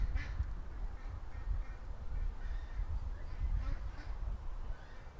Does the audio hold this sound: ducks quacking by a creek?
yes